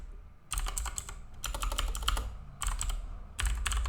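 Fast typing on a computer keyboard while entering PHP code for a signup form, in dense rattling bursts of keystrokes separated by short pauses, close and steady with no voice.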